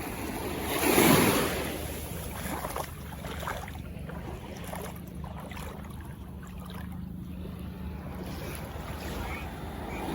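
Sea waves wash against a beach shore, a broad rushing surge swelling early then settling into steady surf with wind buffeting the microphone, no talk over it.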